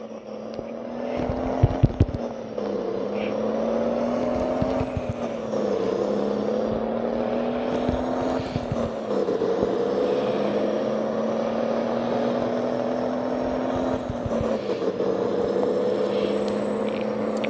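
Volvo N10 truck engine in a truck driving video game: a steady, droning diesel note that rises and falls in pitch with each gear change, heard alone and continuous throughout.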